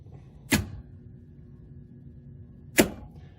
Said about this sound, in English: What you heard there was the bypass contactor opening and closing